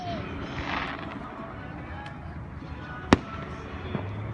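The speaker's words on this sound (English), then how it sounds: "Allie, look at the fireworks, buddy." Backyard fireworks pop and crackle at a moderate distance, with one sharp loud bang standing out amid a steady rumble of background noise.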